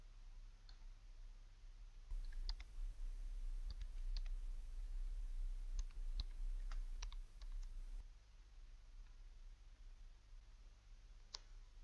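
Clicking and tapping on a computer, a scattered series of small, close, crisp clicks in quick groups, then quieter near the end, with no talking.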